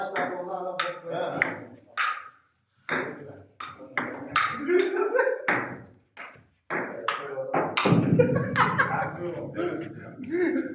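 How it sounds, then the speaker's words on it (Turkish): A phone notification pings several times in short, sharp bursts amid a lively indoor gathering, with people talking and chuckling close by throughout. "Telefon ekan."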